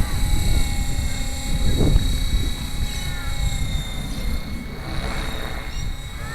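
A Gaui X5 RC helicopter doing forward flips, its steady rotor and motor whine running throughout at moderate distance, with a brief swelling whoosh near the two-second mark and again toward the end.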